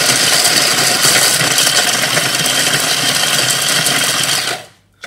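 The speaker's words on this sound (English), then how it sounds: "it helps with your garlic if you bash it about or just whiz it up in a fine mill" An electric fine mill whizzes up unpeeled garlic cloves for a garden spray, a loud, steady whirring grind close by that runs without a break and then cuts off sharply near the end.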